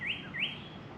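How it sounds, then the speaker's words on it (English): A bird gives two quick, bright rising chirps outdoors, fairly faint against a soft background hiss. "chirping birds"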